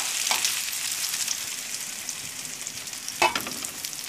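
Green beans frying in oil in a covered pan, a steady broad sizzle running throughout with a brief louder crackle or clatter near the end.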